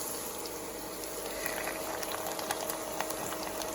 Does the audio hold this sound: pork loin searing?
yes